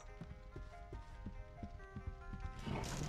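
Horse hooves clip-clopping in a steady rhythm inside The Punisher PS2 video game, ending in a whinny, with game music underneath and no talk.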